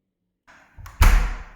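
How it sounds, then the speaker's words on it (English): A household door opened and shut during a home recording, a soft creak and rustle followed by a loud, close thud of the slam that rings out briefly, with no talking. "I need to open the door"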